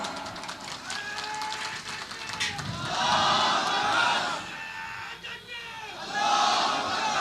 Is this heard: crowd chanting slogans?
yes